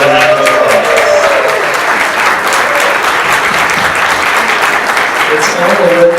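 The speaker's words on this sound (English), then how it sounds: "Let's give a round of applause." Audience applause at a startup tech meetup, loud sustained clapping that swells and continues steadily, with a voice heard briefly at the start and end.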